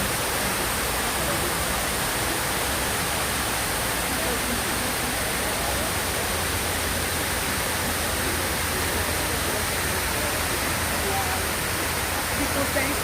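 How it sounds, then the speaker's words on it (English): Water from a memorial waterfall pours steadily into a pool, a dense, even roar of falling water that holds constant from start to finish with no voices. "Water coming from the top representing the victims, going to a pool"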